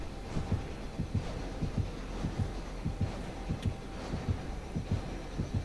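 Killer's terror radius heartbeat in Dead by Daylight, a steady low thudding pulse repeating about every half second, moderately loud and continuous under a faint hum, with no talking.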